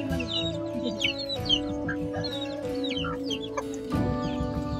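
Several chickens clucking close by in an irregular, chattering stream, with occasional sharper squawks over a steady low hum.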